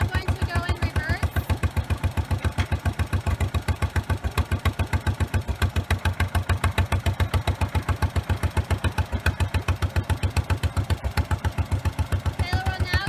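A truck engine idles with a rapid, even, loud low chugging pulse at a 2018 Delo TRC driving event in Nappanee, Indiana, as the driver shifts into reverse; faint talk sits beneath.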